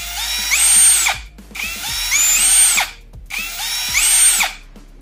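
A cordless drill with a trigger switch spins up three times, each burst whining higher as the trigger is squeezed harder, then winding down, loud and close with short gaps between.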